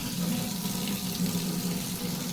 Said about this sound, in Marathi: एकदाच आमच्या नळाला पाणी आलं हे बघा